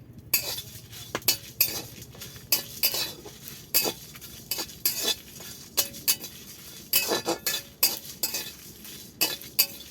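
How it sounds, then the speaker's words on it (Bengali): Whole cumin seeds stirred in a pan while dry-roasting spice mix off the flame: a close run of sharp metallic scrapes and clinks from a spoon against the pan, irregular and repeated over about ten seconds, with no talk. "এবার আমি দিয়ে দিচ্ছি গোটা জিরে"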